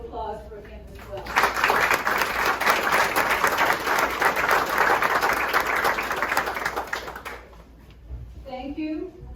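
Audience applause at a Norman Studios Silent Film Museum event in Jacksonville, Florida, a crowd clapping steadily for several seconds after a speaker's voice, then fading as talking resumes.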